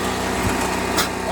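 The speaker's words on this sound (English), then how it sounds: "We're running the generator right now with the air compressor and the battery charger" A small generator runs steadily alongside an air compressor and battery charger, giving a loud, buzzing high-pitched engine drone with a fast regular throb, close by and continuous.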